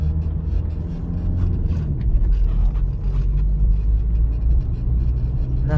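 A car pulls away on a driving-test route, its steady engine rumble and road noise filling the cabin at a constant level throughout, with no talking.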